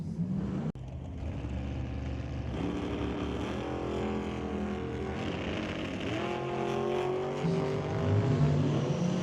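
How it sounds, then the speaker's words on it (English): Drag racing cars, an undercover dragster chasing a Nova, accelerating down a quarter-mile strip at Mission Raceway Park; engine tones rise steadily in pitch as they pull away, a continuous moderately loud roar with no talk. "The undercover dragster chasing after the Rad Torque Systems Nova."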